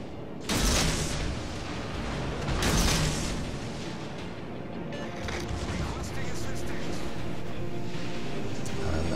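Torpedo explosions striking ships in World of Warships Legends, two heavy booms early on over a constant roar of battle noise, loud and dense.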